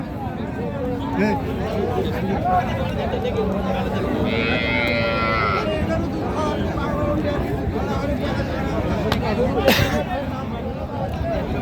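Deshal and Sahiwal cows with calves low amid a noisy outdoor cattle market crowd, with people talking and haggling throughout and a busy hubbub of voices around the animals.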